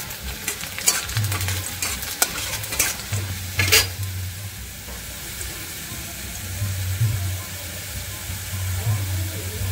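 Onions frying in oil with dried red chillies until brown, a close sizzling hiss broken by scraping stirs and a few clattering knocks early on, with faint voices in the background.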